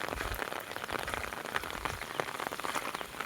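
Steady rain falls on the ground and into standing water in a Gujarati village, a dense, even patter of drops that continues throughout, soft and without voices.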